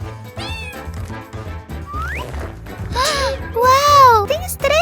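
Cats meow in high, rising and falling cries, several in quick succession and growing louder toward the end, mixed with children's voices.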